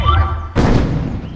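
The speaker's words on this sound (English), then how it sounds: "Did you see that explosion? Boom!" A Feca spell from the beta of the video game Dofus Unity explodes with a single heavy, booming thud that hits suddenly after a quieter stretch and then fades away.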